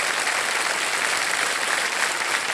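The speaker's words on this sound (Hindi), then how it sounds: "और एक बार जोरदार तालियां बज जाएं उनके लिए।" Loud studio audience applause on the KBC quiz show set, a dense, even wash of many hands clapping that holds steady throughout without talk.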